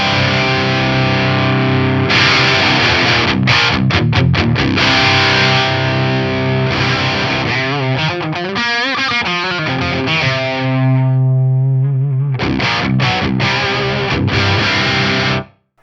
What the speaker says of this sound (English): For the main rhythm guitar tones in the track that you heard, I had it cranked up all the way. So it was pretty sizzly